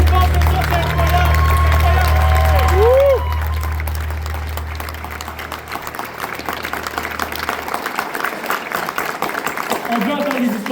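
A church congregation applauds during an Easter service at La Chapelle, the clapping filling the room with a sustained wash of hands while a loud voice and music-like tones sit over the start before fading.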